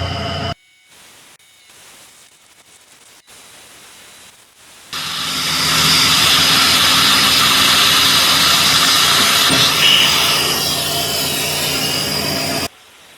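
Machining cut on a rack and pinion hold-down, a loud steady hiss of cutting that starts abruptly after quieter intermittent tool noise and runs for several seconds before stopping.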